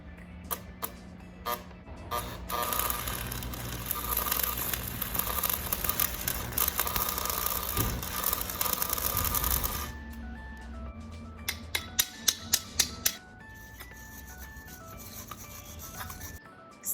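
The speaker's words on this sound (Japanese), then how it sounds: "隙間があるところは端材で埋めて溶接します" Scrap steel pieces are welded into gaps of a homemade steel bumper guard, with a long crackling, buzzing weld run in the middle, sharp clicks and taps before and after, and quieter intervals.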